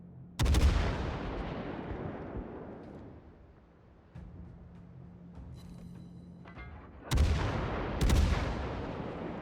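Heavy naval guns on World of Warships battleships fire deep, booming salvos: one loud blast near the start with a long rumbling decay, then two more close together near the end, with quieter distant firing between.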